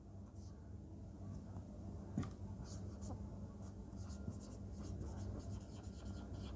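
Marker or chalk writing on a board during a class 8 maths lesson, a steady scratchy stroking texture running continuously at moderate level, close and alone with no talk.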